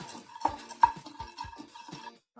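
Roasted gram (pottukadalai) stirred in a pan for a laddu recipe: close metallic scrapes and taps of a spoon against the pan in an uneven series, with no talking.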